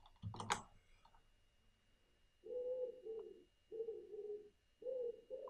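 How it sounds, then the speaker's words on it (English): Pigeon cooing on a house chimney, three soft low coos in a steady rhythm heard from indoors, preceded by a sharp click and faint keyboard typing nearby. "Don't know if you can hear that pigeon sitting on my chimney"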